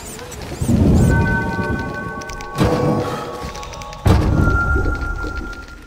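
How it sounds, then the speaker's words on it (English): A heavy downpour in The Witcher (2007) video game, with steady rain hiss and deep thunder rumbles that swell three times, while faint game music tones sit underneath. "A real downpour."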